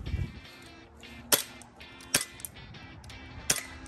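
A Tactical Force blowback airsoft pistol fires three sharp, snappy shots spaced about a second apart, each with a clacking slide and a faint ring, over a low background.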